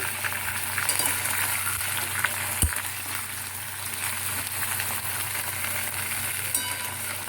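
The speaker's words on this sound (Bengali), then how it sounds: "আগে আমি সবজিটা ভেজে নেবো কিছুক্ষণ নাড়াচাড়া করব" Steady, close sizzling of vegetables frying in a pan, with occasional light scrapes and clinks of stirring, no voices.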